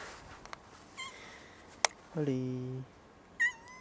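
Cats meow from close by in the early-morning quiet: a few short mews, then a longer drawn-out meow and another brief call, with a person's soft voice heard briefly.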